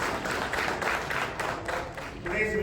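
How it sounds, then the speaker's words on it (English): A fairly quiet round of clapping from attendees at a business roundtable conference welcomes a speaker, brief and soft with a muffled room tone. "So round of applause for him."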